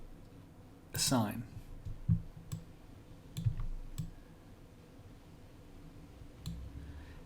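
Mouse clicks while working in Blender on a Coca-Cola scene: a few sharp, quiet clicks spread across several seconds, with a person talking over them.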